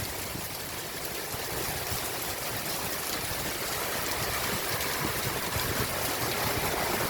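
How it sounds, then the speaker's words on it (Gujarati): Heavy monsoon rain driven by wind, a loud unbroken roar of falling water that holds steady from start to finish without talk. "વરસાદ છે જોરદાર"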